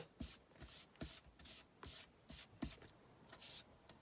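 A spray bottle misting liquid onto painted, stamped craft tags on a table, about ten short hissing squirts in an uneven rhythm, close and fairly quiet with no talk.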